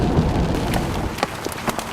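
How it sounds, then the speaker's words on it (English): Heavy rain pours down in a steady, dense hiss during a stormy day, with a few brief louder splashes or drops standing out close by. "It's raining harder by the second."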